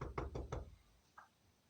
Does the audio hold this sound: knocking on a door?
yes